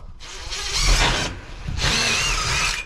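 A power drill whirs in two bursts, a long run then a pause and another run, loud and close while a security door is installed under the eaves.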